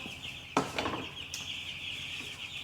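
Chickens clucking in a brooder, a few soft close clucks over a steady high-pitched chirping background from young birds.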